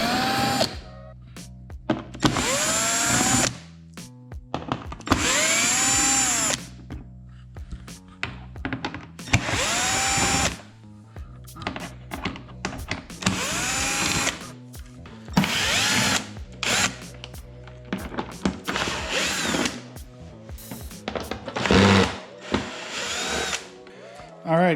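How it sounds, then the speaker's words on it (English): A power driver zips T30 Torx screws out of a Can-Am Maverick X3 windshield in repeated short bursts of whirring, each run lasting a second or two, with clicks and handling knocks between them and a little speech. "Next, we're going to be removing all these screws and these in here."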